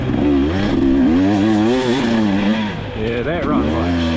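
A fuel-injected second-generation KTM 2-stroke motorcycle engine runs loud and close, its buzzing note rising and falling through steady revving across the whole stretch, with no talk over it.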